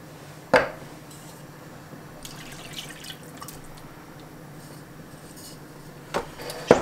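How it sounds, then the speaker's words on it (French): A spoon stirs turkey osso buco in a pot of crushed tomatoes and broth, with a sharp clink of metal on the pot near the start and a couple more near the end, and faint wet scraping in between. "Je vais donner un petit coup de cuillère vite fait."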